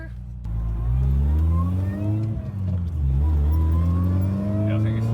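A car fitted with an Eaton M62 supercharger conversion, running around 17 psi of boost, revs hard. The loud, close engine note rises in pitch, dips briefly, then climbs again into a sustained, droning whine.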